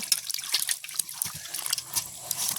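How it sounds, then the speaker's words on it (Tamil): Palmyra fruit being washed in water gives a close, continuous sloshing and trickling with small splashes and drips, and no talk over it. "நாங்கள் இப்போ இந்த பனம்பழத்தை கழுவி எடுப்போம்"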